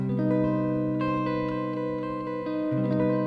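A sustained guitar barre chord with a C on the top string a half step from another note, strummed and left ringing, its notes rubbing together in a sour, clashing dissonance; alone, moderately loud.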